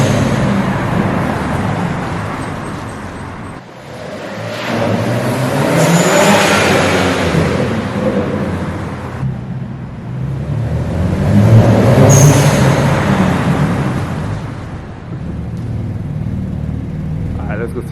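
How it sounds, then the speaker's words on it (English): A BMW E92 335i turbocharged engine fitted with an ECS blow-off valve revs up and falls away in repeated surges, with whooshing releases between pulls, close and loud, while people talk throughout. "that's like one of the best mods you can do to a turbo car, just having a blow-off valve"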